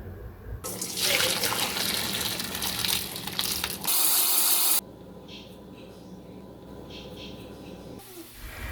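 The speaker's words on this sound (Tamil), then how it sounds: "அது மேலே கொஞ்சம் கோல்டு வாட்டர் விட்டுட்டு நல்லா கொஞ்சம் ஸ்ப்ரே பண்ணி விட்டுடணும்" Cold water gushes from a tap and splashes onto noodles in a sink, running strongly for a few seconds before easing to a softer trickle.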